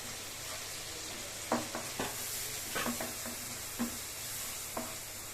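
Chopped tomato goes into a fried spice mixture in a pan, a soft steady sizzle with several sharp scraping stirs of a utensil against the pan standing out over it.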